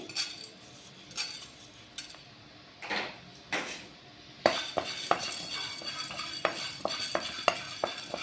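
Fenugreek seeds dry roasting in a pan after pepper, stirred with a spoon for sambar powder, giving repeated scraping and clinking strokes that grow busier and more frequent partway through, close and fairly quiet with no talking.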